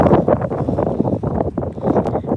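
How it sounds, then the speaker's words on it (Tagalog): Strong wind buffeting an outdoor microphone, a steady low roar with gusting surges throughout, no talk over it. "Grabe ang hangin"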